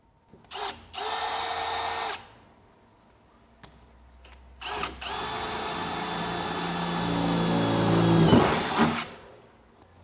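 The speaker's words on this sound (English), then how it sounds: "let's go ahead and drill that first hole" A power drill drilling a hole to mount a Milwaukee PACKOUT mechanics tool set whirs in two loud bursts, a short one then a long sustained run that strains and winds down near the end.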